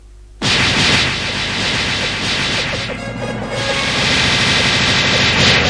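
A loud, sustained video game explosion with crashing, crackling debris rolls on for several seconds, dense and close.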